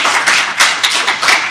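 Short burst of applause from an audience at a broadcast engineering conference, close, steady clapping with a few sharper peaks and no talk.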